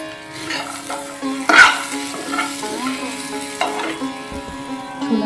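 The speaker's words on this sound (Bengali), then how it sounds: "ছোলা ভাজা করছি" Chickpeas frying with chilli and onion in a pan, a steady close sizzle with a spoon scraping and stirring through it at irregular moments, no voices.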